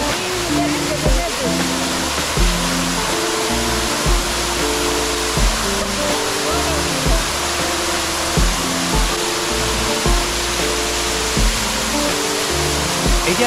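The Huambuguiro waterfall in Yamango, in the Piura highlands of Peru, roars as a dense, constant broadband rush with music playing over it.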